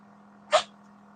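A single short, sharp sneeze from a person in a dusty room bursts out close to the mic, sitting over a steady low electrical hum.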